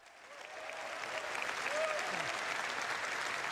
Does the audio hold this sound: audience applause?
yes